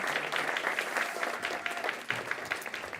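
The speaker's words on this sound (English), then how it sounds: "So try to applaud really, really, really loudly, okay?" Audience applause at a live ITERATIONS 2025 event, a dense, steady wash of clapping from many hands that carries on loudly throughout with only small dips in intensity.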